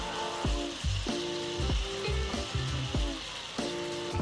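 Cajun shrimp sizzle and crackle steadily in a hot pan, with repeated clinks and scrapes of a utensil turning them, close and fairly loud.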